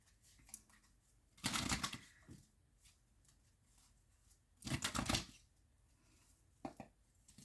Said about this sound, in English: And let's pull another card.